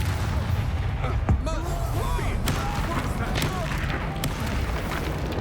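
Confringo fire-spell blasts in the Hogwarts Legacy video game, a sudden booming impact near the start over a dense, continuous din of battle effects and swirling magic, loud throughout with voices in the mix.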